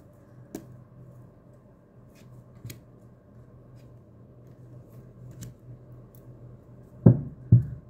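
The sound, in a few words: tarot cards being shuffled for a reading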